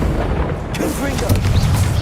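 A Confringo blast spell from the video game Hogwarts Legacy goes off as a booming, explosive burst alongside a cast voice, followed by a rumbling low roar that fills the rest of the short moment.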